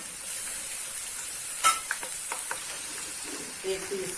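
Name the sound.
freshly ground ginger garlic paste sizzling in hot oil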